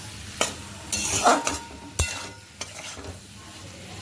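Salted spice mix stirred while frying in oil in a pan, with a few scraping stirs and short bursts of sizzle over a quiet background.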